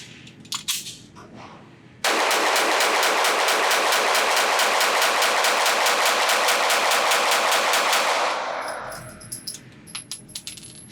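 Pistol fitted with a Derya Arms DY9 ported island barrel, fired rapid-fire at an outdoor range: after a few scattered sounds, a dense, loud, continuous string of shots runs for about six seconds, then trails off into quieter noises.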